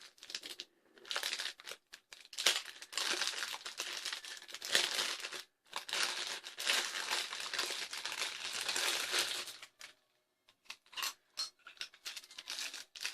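Plastic packaging of a Worker Seagull blaster crinkles and rustles loudly up close in long bursts, with short pauses and scattered crackling handling noises.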